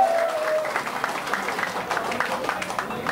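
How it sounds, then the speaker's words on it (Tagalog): A crowd at a rap song competition during the Giniling Festival claps steadily in a dense, even wash of applause, with a voice faintly heard within it. "isang munang malakas na palakpakan at sigawan"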